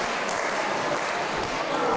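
A crowd at a Gainsborough wrestling show cheers the hometown wrestler, a steady dense roar of applause and shouting that holds all the way through with no break.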